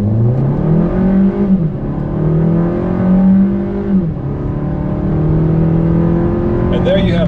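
A 2018 Hyundai Kona is floored at full throttle toward 60 mph. The loud, droning engine rises in pitch, dips at each upshift, then climbs again, with a voice faintly present.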